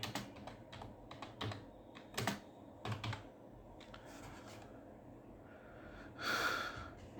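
Someone types on a computer keyboard in a quiet room, with irregular clusters of close clicking keystrokes, some heavier taps, and a brief breathy sound near the end.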